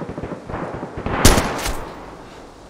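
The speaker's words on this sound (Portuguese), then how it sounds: "cada tiro que eu tô dando aqui" A quick burst of DayZ gunfire, several sharp shots clustered together over busy background game noise, loud and close.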